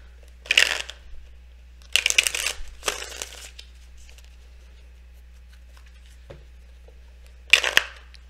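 Tarot cards are shuffled close up in several short, crisp bursts separated by quiet gaps, with one last burst near the end.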